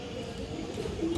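Kajla pigeons give a soft, low, continuous cooing, close by and alone, over a faint steady background hum.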